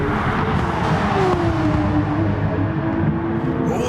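A Porsche race car engine in a racing video game, lapping the Brands Hatch GP circuit, heard as a steady, moderately loud droning note that slowly shifts in pitch with no voices over it.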